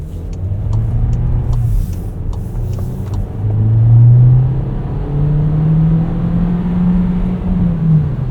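The turbocharged engine of a 2025 Volkswagen Taos with an 8-speed automatic hums steadily from inside the cabin on a winter drive, pitch rising and dropping through smooth gear changes over a low road rumble.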